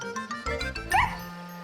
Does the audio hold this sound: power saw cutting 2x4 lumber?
no